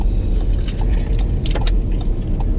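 Car keys jangle and rattle in quick bursts for a couple of seconds, loud and close, over a steady low rumble of a moving car.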